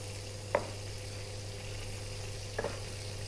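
Ground spice paste frying in a pan, a steady low sizzle running throughout with two brief sharper spatters near the start and end.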